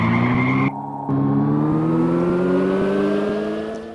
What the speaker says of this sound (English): when you're drifting and you're losing traction, it looks like you're burning out. And then there's a cool like screeching sound